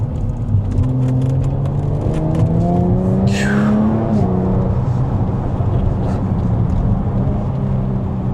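A Jaguar F-Type V6 S sports car drives hard, its engine rising through the revs in loud sweeping pulls, with a sharp high tire squeal or burst partway through, then settling into a steady roar.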